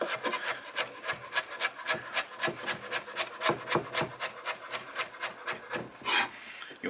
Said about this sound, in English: when you're chopping your parsley, bunch it up, nice little bunch, scrunch it up